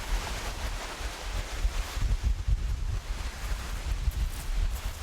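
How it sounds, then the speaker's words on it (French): Strong gusting wind roars across the microphone by the sea in Canada, with low rumbling buffets and a steady wash of surf beneath. "il y a salement du vent"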